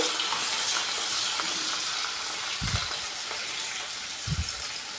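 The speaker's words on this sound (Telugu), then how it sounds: "ఒక్క ఉల్లిపాయ గుండగా తరిగి పెట్టుకోవాలండి కొంచెం వేగాలి ఇవి" Chopped onion fries in a pan for a stuffed brinjal curry, a steady close sizzle and hiss throughout with a couple of soft stirring knocks, no talking.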